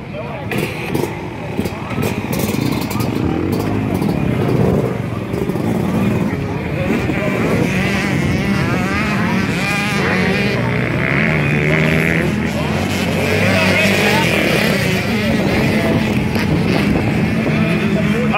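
Motocross motorcycles race with continuous loud engine roar and revving. Engine pitch rises and falls throughout, and a commentator's voice runs over the racket.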